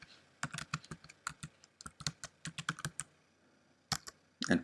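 Fingers type a username on a computer keyboard, producing quick, close clusters of crisp key clicks in short bursts separated by brief pauses.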